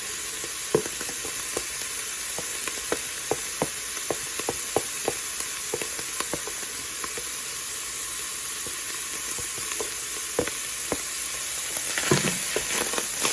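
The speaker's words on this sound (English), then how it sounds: "So I'm adding in our peppers and our green onions, and our thyme and our white onion." Peppers, green onions, thyme and white onion sizzle steadily in a hot pan, with a continuous frying hiss broken by frequent sharp spatula scrapes and clicks, close and fairly loud with no talking.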